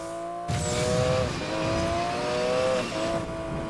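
Porsche 911 Carrera S type 93 engine in the Need for Speed Payback racing game, revving hard through rising and falling gear pulls with clear shift breaks, loud and close, accompanied by light tire noise.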